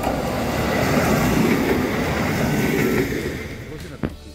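A train rumbles past loudly and steadily for several seconds in a small town in Hokkaido, its rolling noise fading toward the end with a brief clank, while voices talk faintly underneath.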